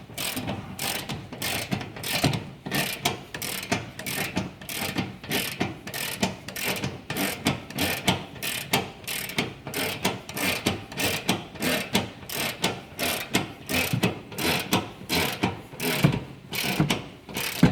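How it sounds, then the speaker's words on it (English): Ratchet wrench tightening a bolt on the upper control arm of a Ram 1500 pickup, a long run of fast, evenly spaced clicking strokes, close and loud, with no talk. "Just gotta tighten the bolt."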